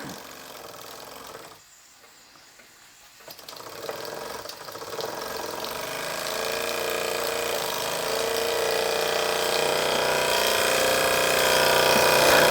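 A Wilson Brothers small vertical boiler model steam engine running, with a rapid mechanical chuffing that briefly drops off, then steadily builds and grows louder and busier, close up and with no talking.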